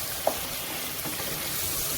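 Onions sizzle steadily in a pan for an Andhra-style keema curry, a soft, even frying hiss with one brief clink near the start.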